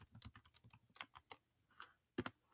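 Typing a title on a computer keyboard, quiet irregular keystrokes pattering in short bursts, ending with one sharper louder key press.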